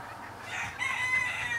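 Chickens cluck while a rooster crows, the crowing rising partway through and carrying on to the end, fairly close and moderately loud with no talking over it.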